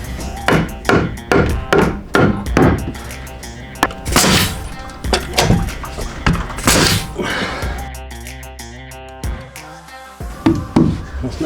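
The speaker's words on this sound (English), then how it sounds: "we're going to nail in from this side to help keep it secure" Nails are hammered into wooden floor joists: a rapid series of loud, close hammer blows in steady bursts, pausing briefly, then resuming with more strikes.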